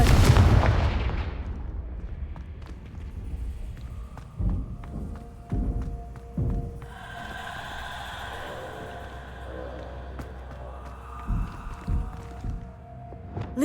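Confringo fire spell blasts in the Hogwarts Legacy video game, several sharp booming impacts with thuds spread over a game soundscape, some tonal effects and ambience between hits.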